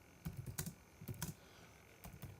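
Keys clatter on a computer keyboard in three short quick bursts, separated by brief pauses. The tapping is soft and near in a quiet room.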